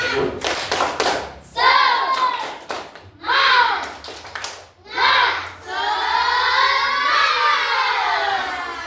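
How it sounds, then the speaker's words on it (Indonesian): Children performing the tepuk semangat rhythmic clapping chant at a morning school lesson: bursts of clapping alternate with loud group chanting of young voices, close and lively, several rounds in a row. "ayo kita tepuk semangat. Tepuk semangat."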